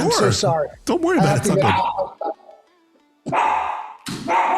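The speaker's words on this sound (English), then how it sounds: "You can't bark." A pet dog named Tom Brady barks in several loud bursts at home during a live radio interview, mixed in with people talking.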